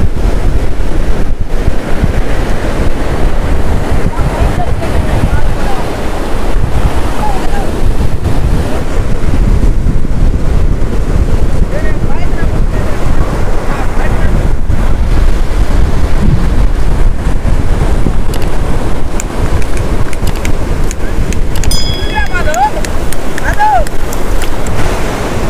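Large ocean waves pound the shore at Rock Beach in a constant loud roar, mixed with strong wind noise on the microphone.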